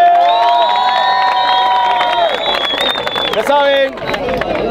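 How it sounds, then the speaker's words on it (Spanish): A crowd at an international rap battle final cheers loudly, with shouts, whoops and scattered clapping that swell and then dip slightly toward the end. "Fuerte las palmas para Ballester."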